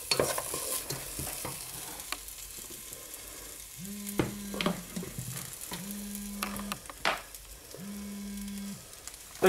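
Onions frying with curry leaves, garlic and ginger crackle in a steady sizzle, with a spoon scraping and stirring the pan and a low hum rising and stopping three times.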